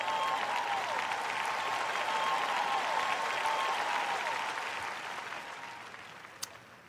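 An audience at a French-language sermon gives sustained, dense applause that holds steady and then gradually fades toward the end.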